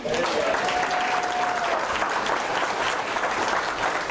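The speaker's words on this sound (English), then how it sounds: "How many people would agree by a round of applause?" Steady audience applause at a sales talk on prospecting and recruiting, a dense, even wash of many hands clapping throughout, loud and sustained with no pauses.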